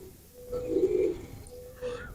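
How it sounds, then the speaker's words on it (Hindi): A Kamgar pigeon coos once at close range, a soft, low, rounded burble rising and falling, followed by a quieter trailing note over a faint room hum. "ये कमगर कबूतर।"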